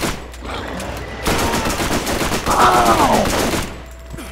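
Gunfire in the Borderlands video game, a dense burst of rapid shots running for several seconds under excited shouting from players, with a brief exclamation near the start.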